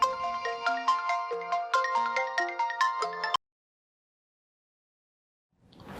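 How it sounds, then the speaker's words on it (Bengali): A melodic phone ringtone plays a quick tinkling tune for about three seconds, then cuts off abruptly into silence. "ফোন ধরতেছো না কেন?"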